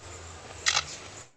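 A lyrebird mimics a camera shutter: a short mechanical burst of clicks, bright and crisp, standing out briefly against a steady low background hum.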